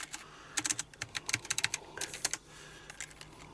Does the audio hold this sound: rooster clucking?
no